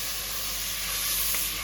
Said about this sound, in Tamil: இந்த எண்ணெயிலே நல்லா கொஞ்சம் வதக்கிக்கலாம்